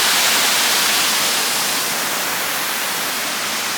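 The Curug Sadim waterfall pours down as a loud, unbroken broadband roar, steady and close, with no other sounds standing out.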